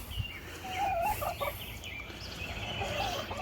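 Chickens cluck and call from a backyard flock near a coop, a run of close, throaty, gobbling-like squawks rising and falling over a quiet outdoor background with no talking.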